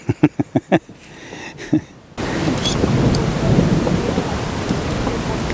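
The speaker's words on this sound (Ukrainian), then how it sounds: "Чуєте, гремить." Thunder rolls over open water during a storm on a fishing trip, a loud low rumble with steady rain and wind noise after a few short knocks at the start.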